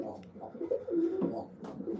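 White German owl pigeons in a racing loft cooing, soft low burbling coos overlapping close by, steady and unhurried with faint rustling behind.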